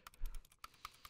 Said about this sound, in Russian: Я так уже устал кликать.